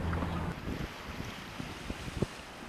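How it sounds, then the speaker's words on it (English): Sailboat under a reefed mainsail in about 15 knots of wind and lumpy waves, with steady wind rumble on the microphone, water sloshing against the hull and irregular thumps of chop, no voices. "Here we are sailing with a reefed mainsail in only about 15 knots of wind, but with a really lumpy wave condition"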